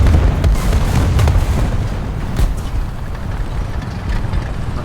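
Artillery shells exploding in War Thunder tank combat, a series of heavy low booms and rumbling blasts rolling over each other for several seconds, loud and dense, no speech.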